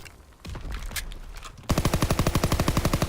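Automatic gunfire in the Call of Duty video game, heard first in a few scattered shots, then as a loud, rapid, evenly spaced burst for the final second and a half.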